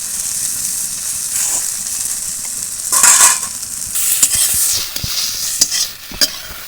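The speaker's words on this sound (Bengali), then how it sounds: "আমি ঢাকা দেবো না এমনি এইভাবে ভাজবো একটু লাল লাল করে" Vegetables fry in open hot oil in a pan with no lid, a steady close sizzle broken by bursts of louder hissing and spatter. Several scraping stirs and clinks of a utensil against the pan cut through it.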